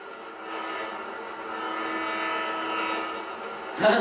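A long, steady train horn in GTA 5 sounds, droning at an even pitch for several seconds before ending with a brief click.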